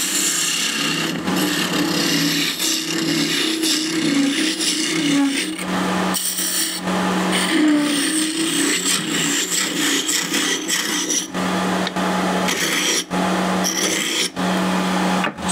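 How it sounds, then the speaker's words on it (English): Wood is rapidly hollowed out after a hole is drilled, giving a loud, continuous rasping grind with frequent brief cuts and restarts over about fifteen seconds. "now the hollowing, which is really fast and furious"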